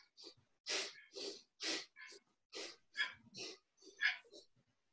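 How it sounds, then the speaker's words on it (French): Forceful, rhythmic exhalations in yoga breathing, a quick run of sharp, breathy puffs close to the mic, fairly faint overall with short gaps between each breath. "Expire tout le peu d'air que tu as à inspirer"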